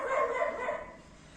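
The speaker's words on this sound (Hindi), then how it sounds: "बगल वाला डॉगी ज़्यादा ही भूख रहा है।" A neighbour's dog barking nearby in a home setting, a short muffled bark or whimper lasting under a second before fading, with no talk over it.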